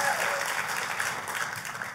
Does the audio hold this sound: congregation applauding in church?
yes